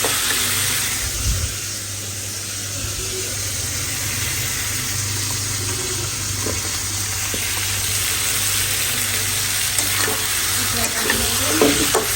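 Garam masala and turmeric fry in a hot pan with a steady, continuous sizzle, and occasional scrapes and taps from stirring run close by throughout.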